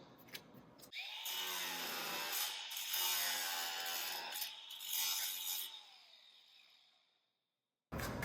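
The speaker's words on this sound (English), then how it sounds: "we're going to use this DeWalt 20-volt grinder and just snip the bottom of these pins off" A DeWalt 20-volt grinder cutting the bottoms off loose door hinge pins, a loud, close, high-pitched whine with metal grinding that holds for several seconds, then spins down into silence.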